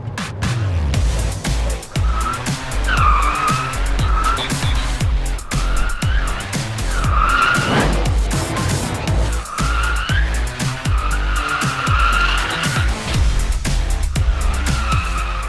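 A car in drift mode skids continuously with loud, wavering tire squeals rising and falling over a revving engine, close and sustained throughout.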